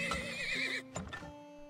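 A horse pulling a wagon in the oil-prospecting video game Turmoil gives a loud, clear whinny followed by a few shorter snorting neighs, heard alone without talk.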